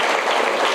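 Audience applause for Paulette Pigeon at a club meeting, a brief, dense and steady burst of clapping that fills the short moment at full level with no voices over it.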